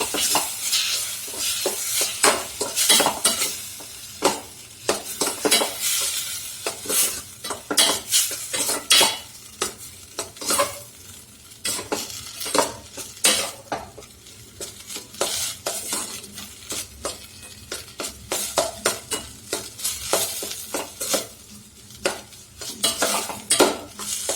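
Maggi noodles stirred in a pan: steady scraping and clinking of a spoon against metal, with light sizzling beneath, repeated strokes continuing throughout at close range.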